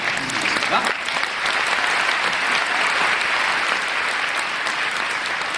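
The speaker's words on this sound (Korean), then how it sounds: "다시 한번 박수" Loud, sustained audience clapping at the final-performance curtain call of the Korean musical Hero, a thick wall of applause filling the hall from start to finish.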